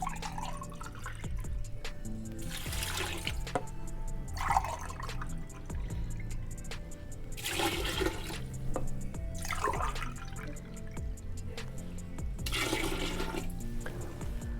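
Water from glasses splashes into a cooking pot for chicken shami kabab, a series of separate gushing pours with short pauses between them, moderately close in a quiet kitchen.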